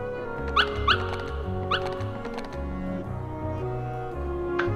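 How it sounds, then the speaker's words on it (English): Puppies in the video game Kingdom Hearts give a few short, high yips and barks in quick bursts over steady game background music; the barks are moderately loud and sit close in the mix. "Oh, because we found some puppies."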